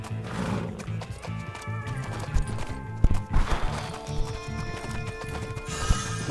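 Steady clip-clop of hooves from a horse being ridden in the video game Six Guns, with an occasional whinny and music playing underneath, close and continuous.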